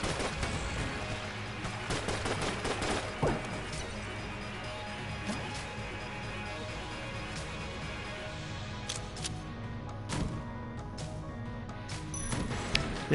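Rapid bursts of gunfire from a gun in Enter the Gungeon, with loud repeated shots, crashes and impacts running continuously throughout.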